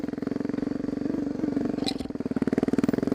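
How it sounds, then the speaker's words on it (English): A TTR 250 dirt bike runs along trails in Hawaii, its single-cylinder engine thumping in a fast, steady pulse up close, surging briefly around the middle and dipping then picking back up at the end. "This bike just devours this kind of trails."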